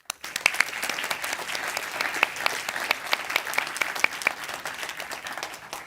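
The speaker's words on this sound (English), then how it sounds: "So give them a warm round of applause." Audience applause at an EU influencer event, a steady wash of many hands clapping with a few sharp individual claps standing out, moderately loud and sustained throughout.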